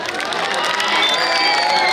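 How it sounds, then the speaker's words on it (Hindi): Audience at a Hindi-Urdu mushaira cheering and shouting with scattered clapping, a dense, loud crowd roar sustained throughout without a break. "एक बार जोरदार ताली बजाओ।"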